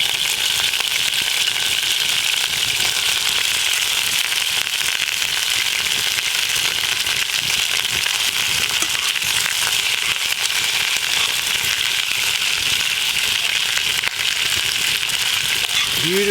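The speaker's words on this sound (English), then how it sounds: "We've got this fire, very, very hot. You can hear that crackling." A hot Australian campfire crackles steadily while lamb browns in a cast iron pot, a dense, continuous popping and hissing that stays close and fairly loud throughout, with no voices.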